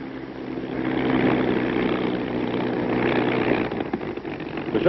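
Bell P-39 Airacobra aircraft engine running steadily, a continuous loud droning roar with a low harmonic hum, alone without voices.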